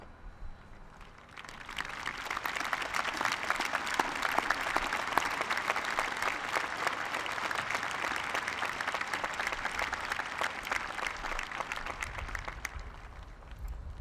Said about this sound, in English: Please join me in applause as I ask our faculty to stand and be recognized.